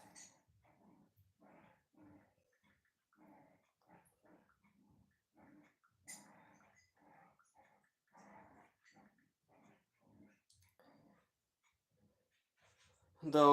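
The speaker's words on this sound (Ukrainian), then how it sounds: "Чуєте, як собака речить?" A dog barks and growls in short, scattered bursts, faint and distant, with quiet gaps between them.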